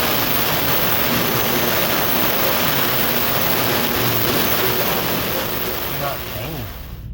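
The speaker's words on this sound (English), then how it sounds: "It's in the ultrasonic cleaner now." An ultrasonic cleaner runs with lawnmower carburetor parts soaking inside, giving a loud constant hiss and hum that fades slightly near the end.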